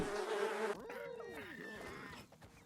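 Cartoonish insect buzzing from bees in the platform game Ultimate Chicken Horse, a busy swarming drone with wavering pitch, loud at first then thinning out and fading toward the end.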